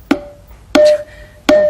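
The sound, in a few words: Simmons electronic drum tom pad on program 14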